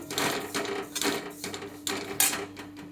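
Dried fish being stirred as it roasts in a kadhai, with a spatula scraping and tapping the metal in an uneven rhythm of close, fairly soft strokes and no voices.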